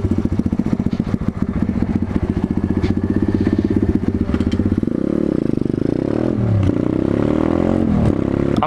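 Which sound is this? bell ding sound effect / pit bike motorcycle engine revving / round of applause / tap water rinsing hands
pit bike motorcycle engine revving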